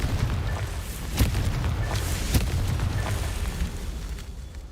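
Confringo fire blast spell in Hogwarts Legacy, a rumbling fiery roar with several sharp bursting booms over about four seconds, loud and close, with no talk.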